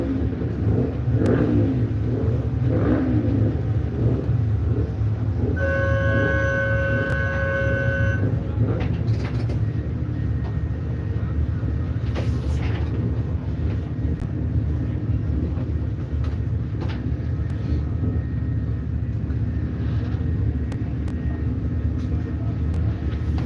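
Superbikes ride out onto the Kirkistown race track during an Ulster Superbike Championship round, a continuous loud mix of revving engines, with a horn-like tone sounding briefly partway through.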